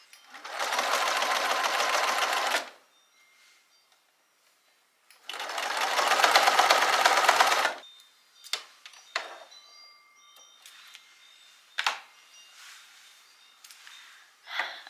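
A home sewing machine stitches a straight seam across bloomers in two loud whirring runs, each a few seconds long, followed by scattered clicks, small handling taps and quiet movement.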